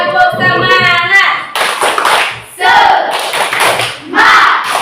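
A classroom of children stand and perform a rhythmic clapping chant, loud bursts of synchronized claps in short patterned groups, alternating with their voices calling out together.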